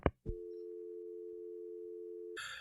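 Steady telephone busy tone drones for about two seconds after a brief click and handset clatter, ending abruptly in a burst of noise; no voices.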